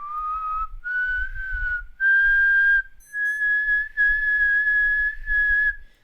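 Eerie whistling meant as the call of El Silbón, the Latin American folktale ghost: a sequence of long, sliding melodic notes, loud and close, with short breaks, heard alone without talk.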